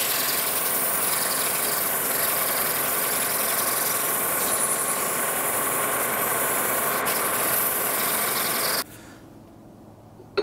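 Polishing a bent shaft from a Wilton vise, a steady, loud rasping abrasive hiss that runs without a break for about nine seconds, then cuts off abruptly, leaving quiet room tone.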